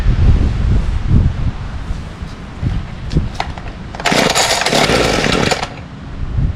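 A gas string trimmer on a cold start gives a few sputtering pulls and coughs outdoors amid wind and rustle, then catches for a short, loud burst of buzzing before cutting out.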